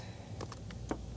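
Keys tapped on a computer keyboard while entering an assignment into a school planner, a few light clicks heard over faint room hum.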